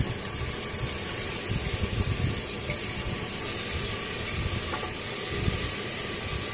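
Garlic paste hits onions already fried red in a pressure cooker for mutton biryani, giving a steady, close, hissing sizzle that runs evenly throughout with no voices.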